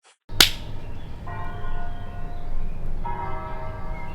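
Bells ring out at Matteo's farm in northern Italy: a sharp snap opens the sound, then two bell strikes follow, each leaving a sustained shimmering tone over steady outdoor background noise.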